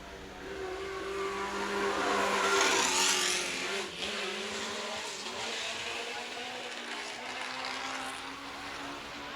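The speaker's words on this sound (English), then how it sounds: "We just had a Formula car go by." A vintage Formula race car at the Pittsburgh Vintage Grand Prix passes by, its engine note rising and falling as it approaches and recedes, moderately distant amid outdoor crowd ambience.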